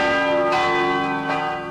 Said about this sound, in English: Bells ring in many churches in Los Angeles, in New York